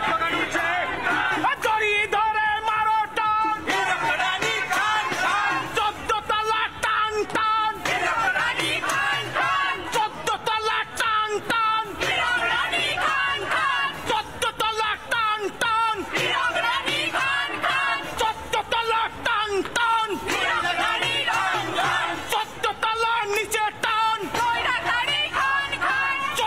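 Loud crowd of protesters at a state secretariat demonstration over dearness allowance, chanting slogans in rhythmic unison, with yells and whoops, continuous and dense throughout.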